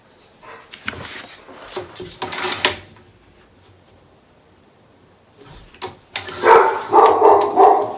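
A riled-up dog barks in a burst of loud, close woofs, falls quiet for a few seconds, then barks again in a louder, denser run, with some clattering like a drawer or door in between.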